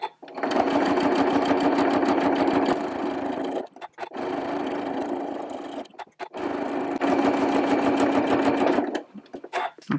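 A sewing machine free-motion quilts in long, fast, loud buzzing runs of rapid stitching, broken by short pauses and quiet gaps, close to the listener with no talk over it.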